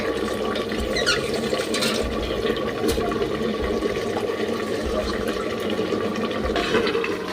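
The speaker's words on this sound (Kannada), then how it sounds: "ಈಗ ನೀರು ಸೇರಿಸ್ತಾ ಇದ್ದೀನಿ" Water pours steadily into rice in a cooking pot for vegetable pulao, a continuous close splashing rush that holds at an even level from start to finish.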